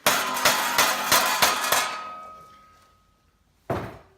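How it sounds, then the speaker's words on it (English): A hammer strikes a stuck screw five times in quick, evenly spaced metallic whacks, close and loud, then the ring decays into a pause before one final sharp hit. "So I'm just going to give it a couple more whacks here."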